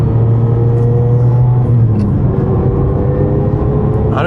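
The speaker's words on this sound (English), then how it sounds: "Listen to that transmission whine." A Ferrari 550 Maranello drives along with a loud, continuous engine drone and a steady tonal transmission whine, heard from inside the car with no talking.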